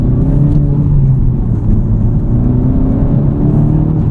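Engine of a Honda Civic Type R FL5 fitted with a PRL engine mount, a steady close droning hum with layered low harmonics and slight rises in pitch while driving, continuous and without talk.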